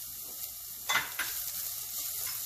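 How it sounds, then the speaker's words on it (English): Chilies dropped into hot oil in a frying pan while tofu bhurji cooks, a sharp close hiss flaring up against steady background sizzling, with a brief stir. "Now I'm adding my chilies."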